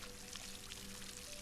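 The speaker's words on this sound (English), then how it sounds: "let's go water this berry bush" Water pours steadily from a watering can onto a berry bush in the SolarPunk video game, a soft, continuous splashing hiss with no breaks and no talking over it.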